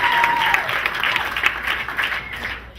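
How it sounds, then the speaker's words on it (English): Loud, dense applause from a film screening audience, steady sustained clapping close by with crowd noise mixed in. "So big round of applause to our sponsor tonight."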